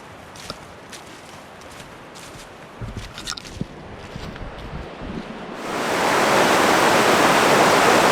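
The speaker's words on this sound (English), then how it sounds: "So this is the first of our stream crossings." Rushing water of a mountain stream in Great Smoky Mountains National Park, quiet outdoor rustle with small knocks at first, then a loud, dense broadband flow that swells up and holds steady once the crossing is reached.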